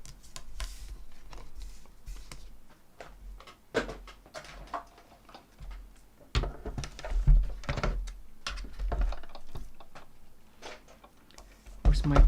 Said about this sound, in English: I'll just die cut that quickly.